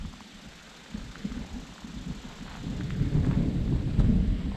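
Low thunder from an approaching storm rumbles and builds steadily near an abandoned mining town, rolling louder toward the end with faint rain hiss beneath.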